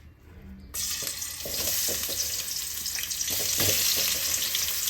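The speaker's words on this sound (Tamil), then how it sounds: "இப்போ நம்ம கட் பண்ணி வச்சுக்கிற இந்த முள்ளங்கியை வந்து இதில் போட்டலாம்" Cut radish pieces dropped into hot oil in a pan, bursting into a sudden loud sizzle that keeps crackling steadily while being stirred, close up with no talking.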